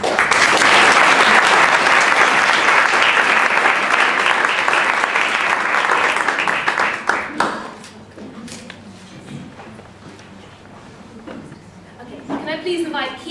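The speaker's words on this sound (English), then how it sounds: "So please join me in a round of applause before we start the honours process." Crowd applause at a newspaper launch in London, loud dense clapping for about seven seconds that fades out, followed by quieter room sounds and a voice speaking near the end.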